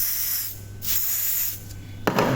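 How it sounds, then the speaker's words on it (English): Short hissing bursts of a gas-based cleaning spray are aimed at a computer mouse, two faint sprays followed by a sharper, closer blast near the end, set against a quiet steady hum. "What you have to do, just spray on it"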